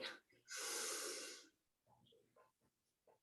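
A long, audible inhale through the nose, close and clear, followed by quieter breathy sounds and faint murmurs.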